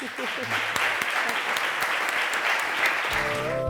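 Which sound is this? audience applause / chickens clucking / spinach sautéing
audience applause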